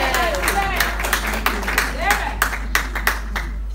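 Wedding guests clap in scattered, uneven bursts, near and fairly loud, with talk and cheering voices mixed in throughout and sharper individual claps toward the end.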